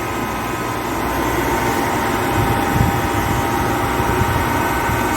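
A three-phase induction motor fed at its rated 415 volts through a three-phase auto transformer runs at no load, giving a loud, steady, continuous hum and whir with broadband noise and no talk.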